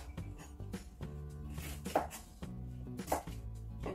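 A knife chops celery, kohlrabi and chili into large chunks on a board, giving a steady run of close, crisp cuts with a couple of louder thuds, no talking.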